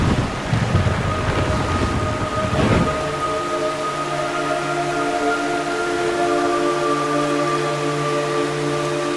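A heavy rainstorm in the Metal Gear Solid 3 video game, steady dense rain with a loud thunder rumble in the opening seconds, followed by sustained downpour under a low tonal music drone.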